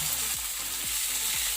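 Chopped garlic hits hot oil in a pan, giving a steady, close, loud sizzle with faint stirring knocks and no voices.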